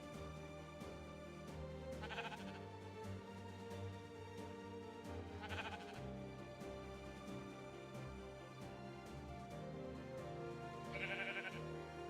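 Sheep in the video game Minecraft bleat in three short, moderately loud calls spaced several seconds apart, set over a steady layer of background game music.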